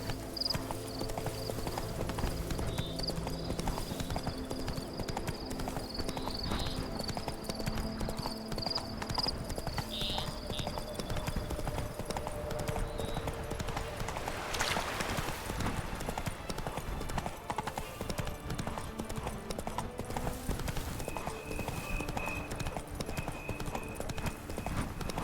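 Hoofbeats of the horse Roach clip-clop steadily for the whole stretch in The Witcher 3: Blood and Wine, carrying on under game music and ambience, with a brief louder rush midway.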